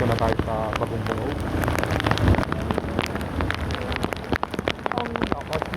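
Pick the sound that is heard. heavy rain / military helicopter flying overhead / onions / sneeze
heavy rain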